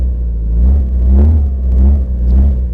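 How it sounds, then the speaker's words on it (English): A loud car engine with no exhaust fitted, in a car-restoration video game, rumbles deep and close throughout, swelling in a few revving surges without any talk. "Alright, Luigi, your car seems to be very loud. I wonder if he notices he's missing an exhaust."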